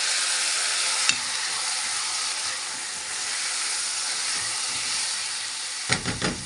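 Frozen grated tomatoes hit frying onion in a pan, setting off a loud, steady broadband sizzle that hisses throughout, with a couple of brief clatters of stirring near the end.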